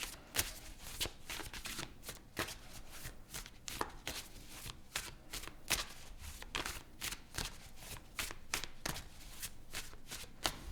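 A deck of tarot cards is shuffled and cut close by in a steady run of crisp riffling snaps and slaps, with brief pauses as cards are drawn and laid down, no voices present.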